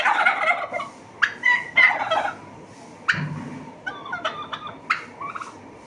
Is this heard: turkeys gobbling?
yes